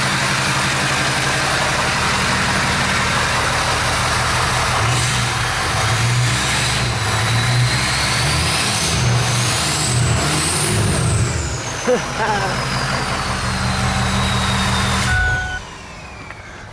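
A work truck fitted with a new aftermarket exhaust, its engine idling with a deep throaty rumble, then revving up several times in loud surges before settling and shutting off abruptly near the end.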